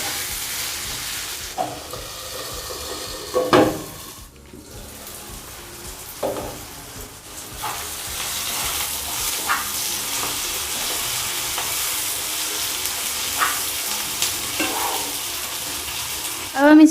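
Chopped onions sizzle and fry steadily in a pan for chicken curry, with intermittent scraping and clinking of a spoon stirring them, close and fairly loud throughout.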